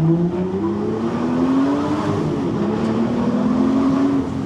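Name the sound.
V12 sports car engine accelerating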